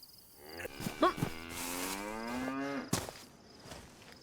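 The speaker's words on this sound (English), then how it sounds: "Oh, it's actually a cow." A cow in the survival video game DayZ gives one long, drawn-out moo at fairly close range, with a few short knocks and clicks around it.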